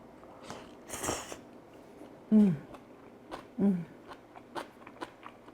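Someone eats japchae with shiitake mushroom, chewing close to the microphone, with two distinct soft bites and quieter mouth and handling sounds in between.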